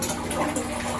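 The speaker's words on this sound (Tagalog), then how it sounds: "Faucet, may tubig naman." Water running from a faucet in a small hotel bathroom with a shower, a steady rushing splash, loud and close for a brief moment with no voices.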